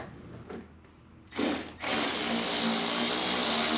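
A power tool drives the last bolt during work on a Honda, a loud sustained whir starting abruptly after a brief burst of noise and running steadily to the end.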